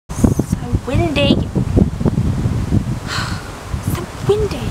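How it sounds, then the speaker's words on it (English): Wind gusts roar over the microphone outdoors while people talk loudly and exclaim throughout. "You won't even be able to hear me because it's so windy."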